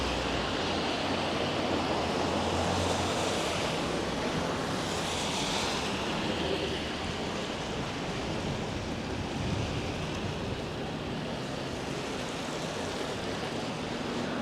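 Blustery wind sweeps an outdoor street in Richmond, British Columbia, a loud continuous roar and buffeting on the microphone that carries on without a break and with no talking.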